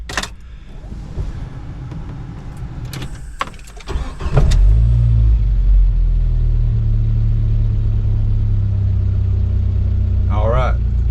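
A 1997 Jeep Wrangler TJ engine, just fitted with a new throttle position sensor, cranks briefly and then catches, settling into a loud, steady low rumble of idling that continues to the end, with some talk over the start.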